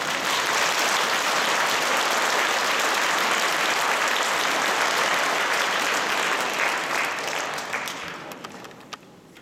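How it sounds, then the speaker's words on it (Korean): An audience at a Lenten lecture claps warmly to welcome Salesian priest Father Baek Kwang-hyun, a thick, steady wave of applause that holds loud for several seconds, then thins and fades out near the end. "여러분, 백광현 신부님을 뜨거운 박수로 맞이해 주십니다"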